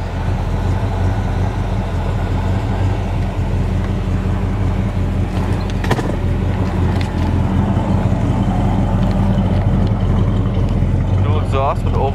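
A 1972 Chevrolet Chevelle SS 396 idles with a deep, steady exhaust rumble through Flowmaster mufflers and oval tips, constant and close, with people talking over it.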